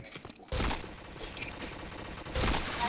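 Gunfire in a video game shooter, with two loud bursts of shots, the first near the start and the second near the end, set against steady game noise.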